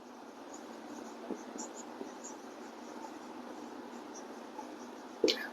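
Faint scratching of writing on a board during a geometry lesson on angles, soft strokes and taps over quiet room hiss, with a sharper knock near the end.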